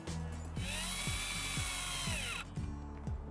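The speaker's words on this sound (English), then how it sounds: "Now you can reinstall the two set screws, one at each end of the track." A power drill drives set screws into an RV window awning track, with a close whirring motor pulsing through several short bursts.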